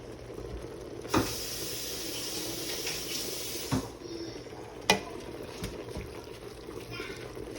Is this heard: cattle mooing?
no